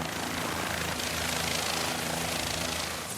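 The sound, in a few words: helicopter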